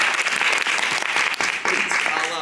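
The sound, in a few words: audience applause in improv class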